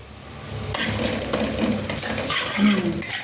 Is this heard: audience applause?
no